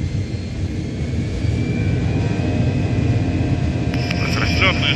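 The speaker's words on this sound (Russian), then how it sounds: "Ага, взлет." An Antonov An-74 jet's engines roar in a steady, loud, broadband rumble during takeoff, heard from inside the cockpit with crew voices over it.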